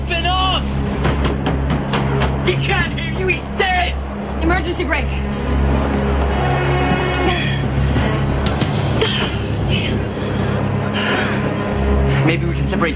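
Emergency braking on a train heading for a crash, with shrill metallic screeches rising over a dense, loud rumble while several voices shout on top.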